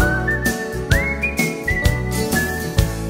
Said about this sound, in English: and then whistle.